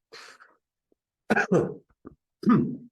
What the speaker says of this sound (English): After my well-timed cough